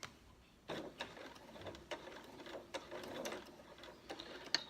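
Sewing machine back stitching a zipped pocket seam in a bag lining, faint, quiet bursts of rapid mechanical ticking that start and stop in short runs, up close.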